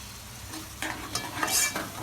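Chicken curry masala sizzles and is stirred in a pan, soft frying crackle with a few short scraping stirs over about two seconds.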